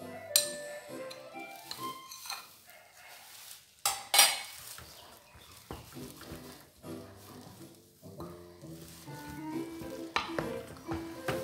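A lentil mixture fries in oil, a sizzle running under repeated stirring scrapes and clinks of glass and metal dishes. The sounds come in uneven bursts with brief lulls, close to the listener, and no one speaks.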